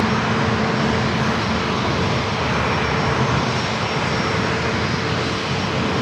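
A corporate jet on approach to runway 27 at San Diego airport roars overhead in a loud, steady, broadband engine rush that stays constant throughout, with no voices.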